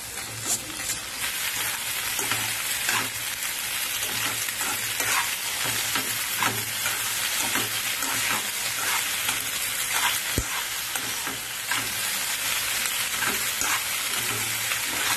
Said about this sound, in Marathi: आणि हे हा पास्ता ट्रान्सपरंट करून देऊ